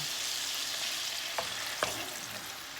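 White wine poured into a pan of frying minced meat: a low, continuous sizzle broken by two brief bursts as the liquid hits the hot pan, with no voices.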